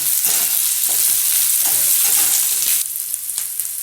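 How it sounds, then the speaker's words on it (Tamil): Green chillies sautéing in oil in a pan, a loud, dense crackling sizzle with occasional stirring scrapes, easing slightly toward the end. "இப்போது இந்த மிளகாய் வந்து நல்லா எண்ணெயில் கொஞ்சம் நல்லா வதங்கிட்டோம்"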